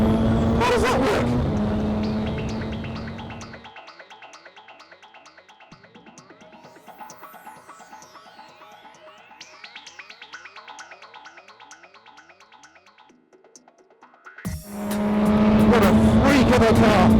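A turbocharged DeltaWing race car, about 300 horsepower, drives on a track, its loud engine roaring at the start and end with quieter rising and falling gear-shift sweeps between while someone talks.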